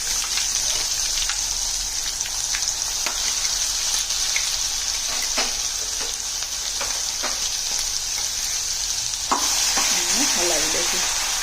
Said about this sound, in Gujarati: હલાવી દઈશું. આને આપણે પકાવી લેવાની છે.